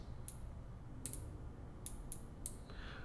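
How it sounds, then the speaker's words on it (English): A Modlite PL350 weapon light's switch gives several crisp, faint clicks at irregular intervals over a steady background hiss. "One of the coolest things about the Modlite is the clickiness of the switches."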